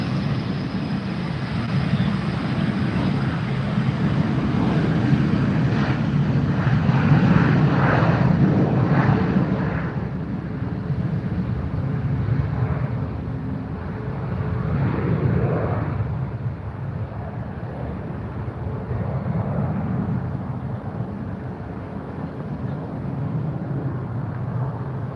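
Jet airliner arriving at Fort Lauderdale airport, its engines a broad steady roar that holds loud throughout and swells slightly midway, with no talk over it.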